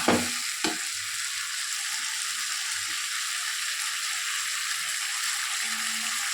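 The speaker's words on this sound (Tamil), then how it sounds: "நல்லா பாவக்காய் சேர்த்து வதக்கிக்கணும்." Bitter gourd sizzles steadily as it sautés in a hot pan for a Tamil gravy. The frying hiss is continuous and close, with a couple of sharp stirring knocks near the start.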